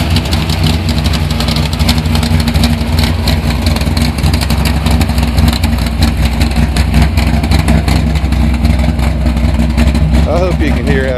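A 1978 Z28 Camaro hot rod sleeper with a V8 of about 450 horsepower and a 4-speed runs loud and close, a steady heavy engine rumble with revving throughout.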